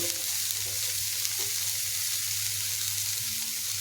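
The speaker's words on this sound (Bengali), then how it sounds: "তো সবজিটা হালকা ভাজা ভাজা হয়ে এসছে" Vegetables sizzle steadily in a hot pan, a constant close crackling hiss with no talking.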